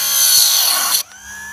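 A machine grinder sharpens chainsaw chain teeth, each ground at the same set angle: a loud, harsh grinding rasp for about a second, then it cuts off abruptly, leaving a quieter motor hum with a thin whine.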